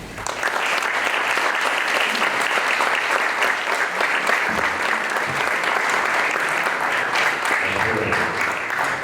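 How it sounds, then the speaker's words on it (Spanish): An audience at a literary talk in Cuernavaca applauds to welcome guest speaker Javier Velasco: loud, dense, sustained clapping fills the room for about nine seconds. "démosle un gran aplauso a nuestro gran invitado hoy"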